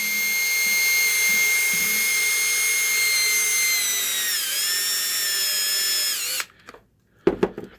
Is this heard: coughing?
no